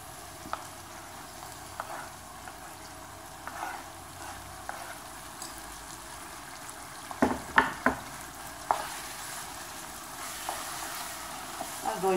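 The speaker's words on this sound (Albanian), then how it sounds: "Është skuqur qepa bashkë me specat, tani edhim dhe domatet që i grillë më përpara." Onions and peppers frying quietly in a pan as grilled tomatoes are added for a meat and okra stew, with a soft steady sizzle and a few sharp stirring clinks and scrapes in the middle.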